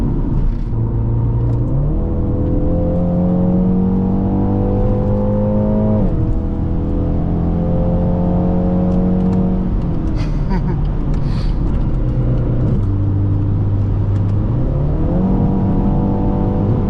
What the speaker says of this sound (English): Today we're driving a 2021 BMW X2 M35i on the channel.